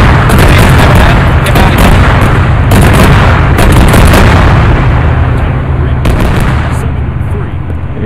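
Heavy gunfire and explosions rage in the military game Arma 3, with continuous loud bursts, booms and crackling shots overlapping throughout, densest in the first half and dipping slightly toward the end.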